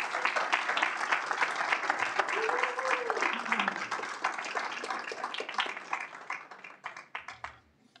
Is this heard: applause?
yes